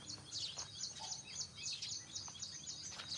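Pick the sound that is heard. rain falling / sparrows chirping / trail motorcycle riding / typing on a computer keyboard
sparrows chirping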